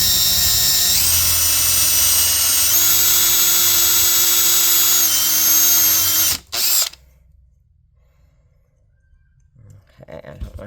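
A drill bores a hole into layered wood with a high, steady whine that shifts pitch slightly, then cuts off abruptly, leaving near silence with faint handling noises.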